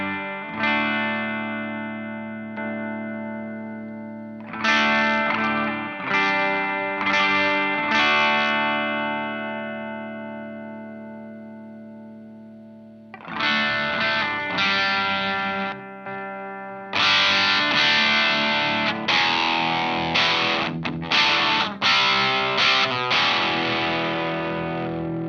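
An electric guitar through an overdrive distortion pedal plays driven, distorted chords and riffs, with sustained notes between stabs; a gritty overdriven tone throughout, with a brief pause partway.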